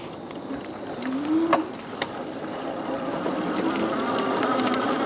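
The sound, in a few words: Kingbull Literider 2.0 e-bike motor under throttle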